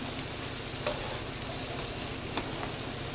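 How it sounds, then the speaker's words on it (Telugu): Mint rice mixture with mint paste frying in a pan, a steady low sizzle and crackle with faint stirring scrapes, close and continuous with no talking. "ఇది కొంచెం బాగా కొంచెం ఫ్రై అవ్వాలి"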